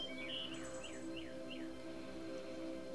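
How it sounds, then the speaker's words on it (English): A few thin, high chirps and quick descending bird notes repeat over a steady background hum, faint and somewhat distant. "birds leading the chorus."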